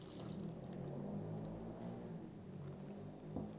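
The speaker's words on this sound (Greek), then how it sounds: "Βάζουμε το νεράκι του." Water is poured into a pot of cabbage rolls, a soft, steady, faint rush of liquid with a small splash near the end, and no talking.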